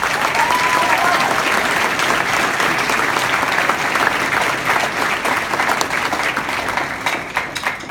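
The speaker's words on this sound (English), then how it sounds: "he and his wife and family deserve a round of applause" Sustained audience applause at a band parents' concert, loud and dense throughout, many hands clapping close together with a faint crowd murmur underneath.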